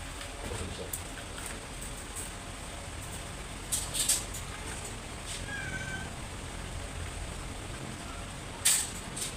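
A rescued cat meows a few times, short faint cries over steady background hiss, one near the middle and another toward the end.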